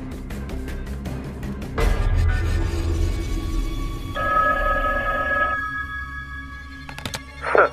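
A telephone rings repeatedly in the horror video game The Callers, a steady electronic trill that continues alongside low rumbling ambience and occasional clicks, with no one talking over it.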